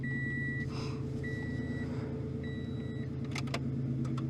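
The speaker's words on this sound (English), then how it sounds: "Okay, it beeps at me." A steady electronic beep tone from a Scion FR-S's key-in warning repeats in evenly spaced pulses over a low engine-like hum, followed by a few faint clicks.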